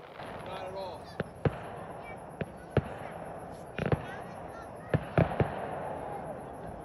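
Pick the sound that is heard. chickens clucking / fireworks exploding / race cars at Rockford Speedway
fireworks exploding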